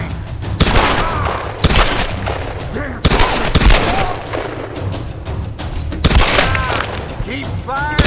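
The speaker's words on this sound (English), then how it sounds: "Keep firing." Gunfire in the action game Tomb Raider: Definitive Edition, loud repeated shots and booming bursts with shattering impacts, layered with other game sounds and shouted voices.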